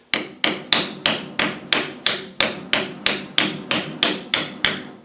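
A metal Defender bulkhead plate clamped in a vise takes about fifteen evenly spaced hammer taps, each a sharp ringing clank that fades quickly, steady and close with nothing else heard.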